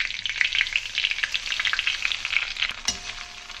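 Poha flakes stirred and fried in hot oil in a kadhai, with mustard seeds and cumin: loud, close, continuous crackling sizzle with rhythmic scraping of the stirring spoon and a sharp metallic knock near the end.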